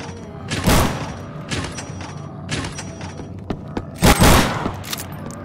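Shotgun blasts in the zombie shooter Recoil, with a few heavy booming shots spaced irregularly among thuds and clatter, loud and close in the game mix.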